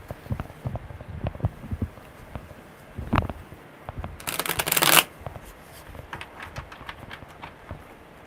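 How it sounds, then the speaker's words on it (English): A deck of tarot cards shuffled by hand during a live one-card reading outdoors on a warm evening, with soft riffling taps throughout and one loud, dense burst of rapid card flutter near the end. "One more good shuffle."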